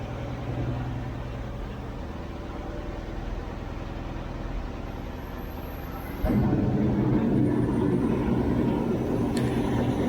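An old car engine idles steadily while its transmission and clutch warm up, a low droning hum that steps up suddenly to a louder, rougher idle partway through.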